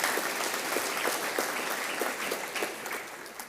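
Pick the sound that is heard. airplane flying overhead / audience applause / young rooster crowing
audience applause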